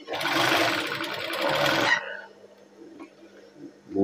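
Sewing machine stitching the pocket of a PDH uniform shirt, a dense continuous loud whir for about two seconds, then stopping, leaving faint handling noise and a low hum.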